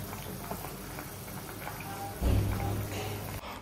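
Fish soup with coriander boils in a pot, with a soft continuous bubbling patter and a brief louder burst of bubbling near the end.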